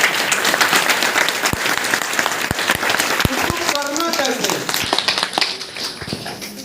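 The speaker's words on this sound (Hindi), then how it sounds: "तो डिएक्शन में ताली होनी चाहिए।" Audience applause at a DXN business meeting in Basti, a dense wash of clapping with a few sharper claps standing out, fairly close and steady, and a brief voice or tone emerging partway through before the clapping tapers slightly.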